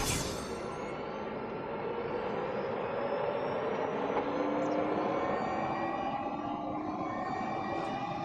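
McLaren P1 and Porsche 918 hypercars pulling away on electric power alone in a Grand Tour racing game, a steady whining drone with rising tones, airplane-like, continuous and fairly loud with no voices.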